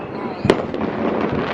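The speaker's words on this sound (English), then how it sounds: "let's just let off fireworks at 12 o'clock" New Year fireworks go off across East London, with a sharp nearby bang amid a continuous crackle of distant bursts as people talk over it.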